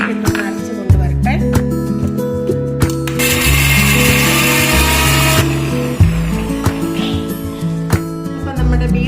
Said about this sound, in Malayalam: ഇത് ഞാനൊന്ന് മിക്സിയിലിട്ടൊന്ന് അരച്ച് കൊണ്ടുവരട്ടെ.